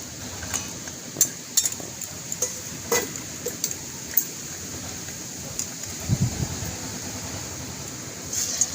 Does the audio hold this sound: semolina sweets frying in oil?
yes